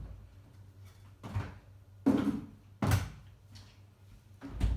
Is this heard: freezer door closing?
yes